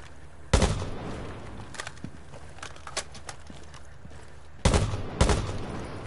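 Gunfire from a PS4 shooter video game: a sharp burst near the start, then a quieter stretch with a few faint pops, then two loud bursts close together near the end. No talk.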